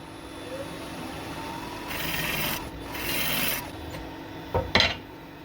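A woodturning gouge cuts wood on a lathe and throws off shavings, heard as a rough, raspy scraping in two sustained passes over a steady motor hum, followed by a couple of brief sharp knocks.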